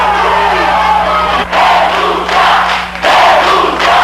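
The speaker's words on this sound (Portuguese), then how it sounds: "Mais uma vez vaiado e cercado por seguranças, José Henrique Vilhena deixou a sala" Protesters at a university boo and shout at the rector, a loud, dense crowd roar in continuous waves with short dips between swells.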